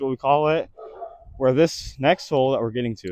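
A dog barks in short sharp bursts mixed in with someone talking nearby on a disc golf course, the barks and speech overlapping.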